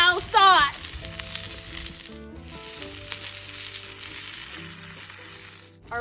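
Chicken wings, cooked over indirect heat on a wheelbarrow barbecue, sizzle as they drop into Kung Pao sauce, a steady close frying hiss with tonal music running underneath throughout.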